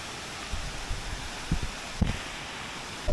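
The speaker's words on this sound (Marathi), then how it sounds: "धबधबा आहे आणि बघा कसा कोसळलाय" A waterfall crashes down on the Ganesh Ghat trek route from Khandas to Bhimashankar, a steady broadband rush heard from some distance with a few soft thumps and no voices.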